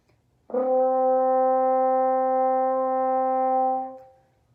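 A single French horn note, G, is held steadily for about three and a half seconds, clear and sustained, then stops cleanly; no talking.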